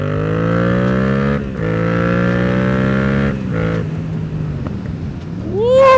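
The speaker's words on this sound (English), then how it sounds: "The exhaust sounds amazing. Let's give it a little rip-a-doo." A Yamaha MT-07 motorcycle engine idles with a throaty exhaust drone, dips a few times, then revs up sharply at the end.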